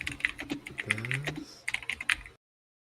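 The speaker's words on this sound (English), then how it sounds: "the like audible typing sounds" Quick keystrokes clack on a computer keyboard in a burst of irregular taps, close and moderately loud, alongside a brief bit of voice-like sound in the middle.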